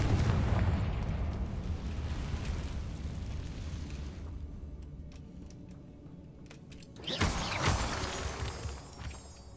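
A Confringo blast spell explodes in Hogwarts Legacy with a loud, roaring burst that slowly fades into a rumbling tail, then a second sharper blast crackles near the end.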